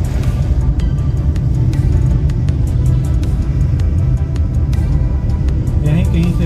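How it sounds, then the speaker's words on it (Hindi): Vehicles passing on the NH44 highway near Ramban, a loud continuous low rumble of engines and tyres close by, with sharp clicks and knocks scattered through it. "गाड़ियाँ आ रही हैं"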